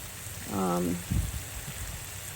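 Garden hose watering thirsty plants in a home garden, a steady broadband hiss of spraying water running throughout, with a brief voice sound near the start.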